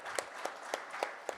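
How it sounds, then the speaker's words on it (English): Faint, sparse clapping at a formal session, about five evenly spaced claps in little more than a second. It is quiet and distant, with no voices over it. "Please give them a Thank round of applause."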